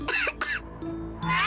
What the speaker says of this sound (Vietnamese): Mẹ ơi, con ho.